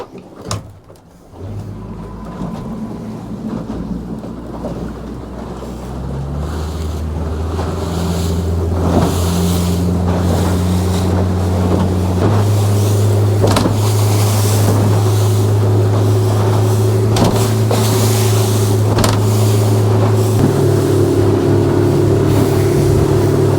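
A fishing motorboat runs at speed on the open sea, its engine drone building steadily and holding loud and continuous, with water slap and wind buffeting the microphone.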